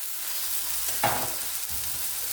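A courgette fritter sizzling in a frying pan, a quiet steady fry with one brief scrape of a knife loosening it from the pan.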